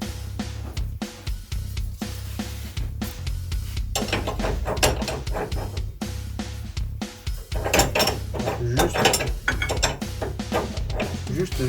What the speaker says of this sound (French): je peux passer ma douille, en espérant que ça suffise pour faire tourner cet écrou